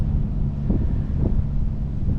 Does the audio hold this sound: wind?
yes